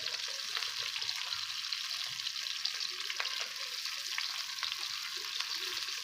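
Chopped onions, green chilies and tomatoes fry in oil in a pan, making a steady, moderately loud hiss and crackle that holds constant without talk.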